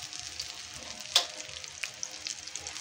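Egg and loroco tortas frying in a pan, a soft steady sizzle with faint crackles and one brief louder pop, close and quiet, no voices.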